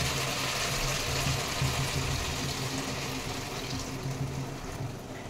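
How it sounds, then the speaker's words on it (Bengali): Water pours steadily into a pot of chicken curry with potatoes and spiced meat, a continuous close rushing splash with no pauses. "এবার আমি জল দিয়ে দেবো"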